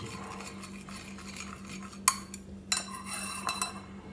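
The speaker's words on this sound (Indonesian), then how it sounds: "Nah, ini bumbu racikannya udah jadi. Jangan lupa diaduk dulu sampai rata." Bakmie seasoning mix stirred with a spoon in a bowl, a soft steady scraping with a few sharp clinks of metal against the dish, close and fairly quiet.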